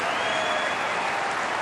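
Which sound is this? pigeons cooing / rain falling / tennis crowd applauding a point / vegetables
tennis crowd applauding a point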